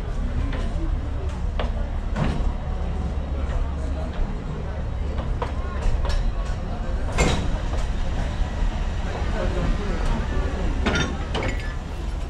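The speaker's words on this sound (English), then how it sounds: "And this here is our train coming in that will take us to the highest railway" An Alishan forest railway train pulls into a station in Taiwan, a steady low rumble and roar of the rail cars with occasional metallic clinks and knocks, loud and close throughout.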